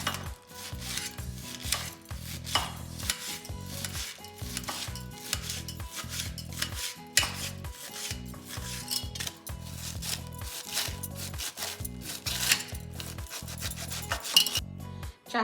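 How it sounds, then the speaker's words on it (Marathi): Chopped vegetables for Manchurian being finely crushed with a glass in a home kitchen, giving repeated rhythmic knocks and rubbing scrapes against a hard surface, steady and close with no talking. "मी गिलासाने बारीक करत आहे कारण मंचुरियनला बारीक लागते"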